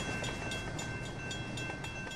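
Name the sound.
train running in Rolling Line VR train-sim video game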